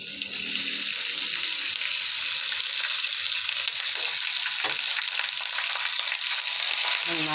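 Cooked rice tipped into browned onions frying in a pan, a steady loud sizzle with hissing crackle throughout and occasional scraping as it is stirred.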